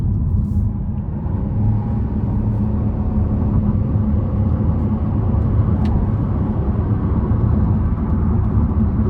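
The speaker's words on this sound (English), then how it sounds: "I'm gonna try to give it a little pull here, getting on the interstate." A 2025 Buick Encore GX Preferred accelerates onto the interstate, heard from inside the cabin as a steady, loud low engine and road rumble that holds evenly throughout.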